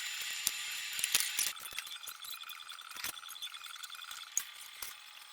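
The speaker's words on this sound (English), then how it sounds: "I'm gonna raise the knee up and pull out all that hardware so that we can have more access" The knee of a Brown and Sharpe milling machine is cranked upward in a workshop: quiet, scattered metallic clinks and mechanical ticks over a faint steady hiss.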